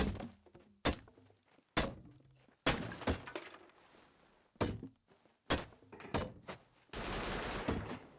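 Gunfire rings out in the survival video game Rust: a series of loud, sharp shots and impacts, spaced irregularly. Near the end they build into a denser, sustained burst.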